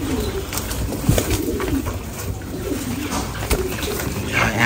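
A flock of domestic pigeons crowds in to be fed on a small farm, cooing steadily and close by against a dense, continuous background of bird noise, with almost no talking.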